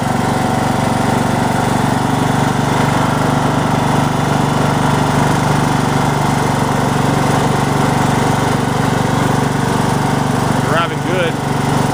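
A Toro lawn tractor engine drones loudly and steadily throughout while driving, close by and unbroken, with a slight clatter near the end.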